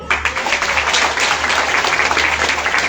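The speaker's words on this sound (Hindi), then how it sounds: "जोरदार ताली" Audience clapping at a DXN program gathering in Dostpur, a burst of many hands applauding with an uneven, pulsing rhythm held for a few seconds.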